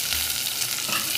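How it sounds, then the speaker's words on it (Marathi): Tomatoes sizzle and are stirred in a hot pan for a Khandeshi matki thali, a loud, close, steady frying hiss with scraping stir sounds. "आता टमाटर टाकून घेऊ आपण।"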